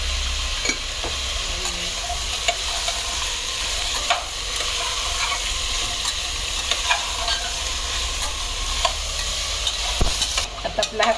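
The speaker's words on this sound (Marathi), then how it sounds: "आता कांदा परतताना आपण थोडंसं त्यात मीठ घालायचं म्हणजे कांदा लवकर परतला जातो" Chopped onions sauté with salt in a pan for a gravy masala, giving a continuous close frying sizzle. Scattered spoon clicks and scrapes come through as the onions are turned, with a low rumble underneath.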